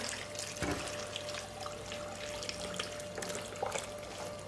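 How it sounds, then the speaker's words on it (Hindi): Hot water poured into a pot of meat and radish for a village-style lapsha stew, a steady splashing, trickling stream heard close and alone with no talking. "पानी डालो, गर्म पानी है ना।"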